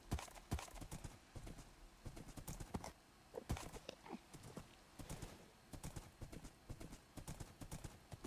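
A horse gallops in a video game: rapid, rhythmic hoofbeats run steadily and close throughout, with a brief whinny-like sound and no talking over them.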